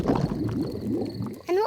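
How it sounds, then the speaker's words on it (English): Cartoon tummy rumbling, a low gurgling, bubbling growl that rolls on for over a second before a voice cuts in loudly at the end. "My tummy rumbling is one of the best sounds of nature."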